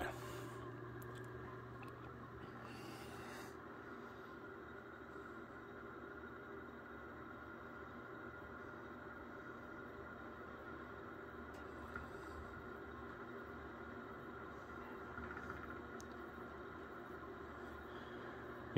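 A 1996 Windsor & Browne Mercer Collection 42-inch flush-mounted ceiling fan runs on high speed, giving a steady, fairly quiet whirring drone that stays constant, with a faint hum and a few small ticks.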